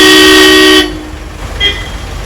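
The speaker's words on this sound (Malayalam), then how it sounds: "എന്തൊരു ഹോണടിയാണ് ഈ ബസ്സുകാര്" A bus horn blasts loudly and steadily at close range for nearly a second, followed by street noise and a faint second toot further off.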